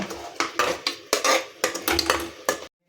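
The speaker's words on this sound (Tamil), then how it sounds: "க்ரீன் மசாலா சேர்த்துட்டு நல்லா இதை மிக்ஸ் பண்ணி விட்ருங்க" Green masala paste stirred in hot oil for chicken kulambu, a series of close, rhythmic metal scrapes and clatters against the pan, about eight strokes, ending in sudden silence.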